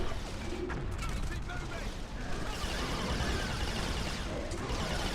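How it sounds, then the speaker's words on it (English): Dense, continuous rapid gunfire in a video game roaring throughout, loud and close, with sharp cracks layered over a constant heavy rumble. "Don't get in the way of my gunfire"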